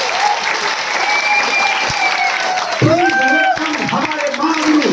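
A large crowd at an event on a cruise ship applauds to welcome a speaker to the stage, steady dense clapping under a loud voice talking over the top through music or a microphone.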